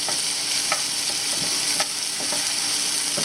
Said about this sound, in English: What you're going to do is saute these down and put them aside